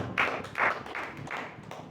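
A church congregation at a Sunday service claps in a slow, even rhythm, about five distinct hand claps spaced evenly, moderately loud in a reverberant room with low murmuring underneath.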